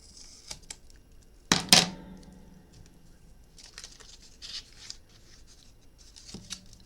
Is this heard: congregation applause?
no